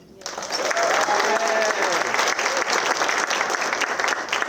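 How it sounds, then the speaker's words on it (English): An audience at an alumni awards ceremony bursts into sustained, loud applause mixed with scattered cheers. The clapping begins abruptly and keeps a dense, even roar to the end. "Joseph, I'm going to give another chance for the crowd to cheer for you because I didn't mention it."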